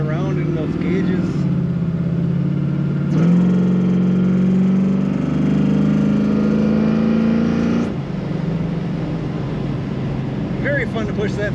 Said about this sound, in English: Very fun to push that throttle down on this car.